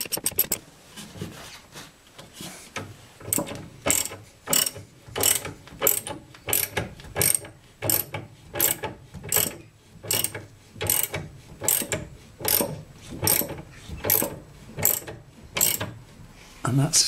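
A car jack ratchets up under a Lotus Elan, kept clear of the A-frame, clicking in a steady repeated rhythm of sharp pawl strokes, close and clear with no talk.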